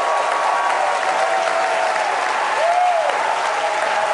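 Crowd cheering and applauding loudly and steadily at SpaceX Starship engine cutoff during its third test flight launch, a continuous wash of clapping with a faint tone sweeping through.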